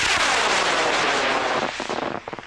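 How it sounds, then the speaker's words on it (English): A PML quarter-scale Patriot model rocket lifts off on an I-161 White Lightning motor, a loud continuous roaring rush of exhaust that holds steady, then breaks into crackling, sputtering bursts as it thins out toward the end. "Flying a PML 1/4 scale Patriot called Patriot's Pride on an I-161 White Lightning"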